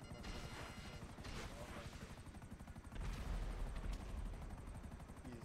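In GTA 5, a chasing police chopper fires on the player's vehicle: rapid rotor thumping mixed with crackling gunfire and crash-like bursts, moderately quiet and dense, with a voice talking over part of it.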